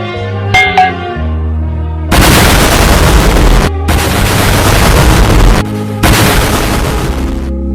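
Loud, harsh grenade explosion blasts in quick succession, broad noisy bursts with brief gaps between them, preceded by a few sharp tonal hits.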